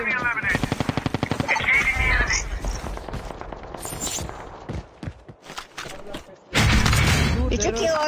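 Machine gun fire in Call of Duty Mobile, loud rapid bursts of close automatic shots with pauses and clattering impacts between them, a final sustained burst at the end, and a voice speaking at the start.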